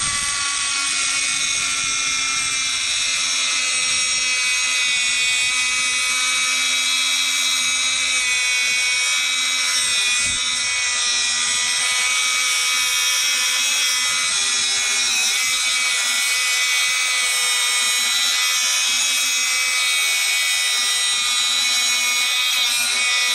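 Dewalt DCS438B 20V brushless 3-inch cut-off tool slicing through a U-bolt at a wrecking yard, a loud sustained high-pitched whine of the spinning wheel grinding steel, steady and close for the whole stretch.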